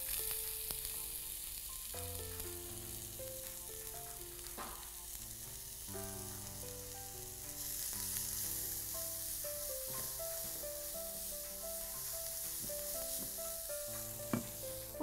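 Minced meat and onion fry in a little oil with a continuous soft sizzle, heard beneath a background melody.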